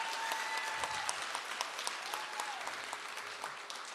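Audience applause at an Institute of Technology graduation and pinning ceremony, a faint, distant, even patter of many hands that carries on alone for several seconds.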